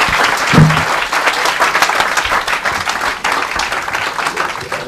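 Steady applause from an audience welcoming the lecturer Carolin Walker Bynum, a dense even clapping that holds at full strength for the whole stretch.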